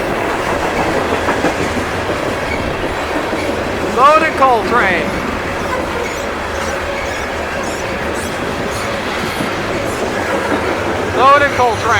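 A loaded CSX coal freight train rolls past nearby, a steady rumbling roar of railcars with rhythmic wheel clatter and brief squeals around four and eleven seconds; no talking.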